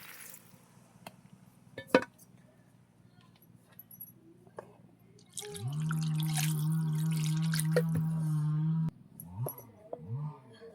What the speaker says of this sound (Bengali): ঝোলের পানিটা দিয়ে দেবো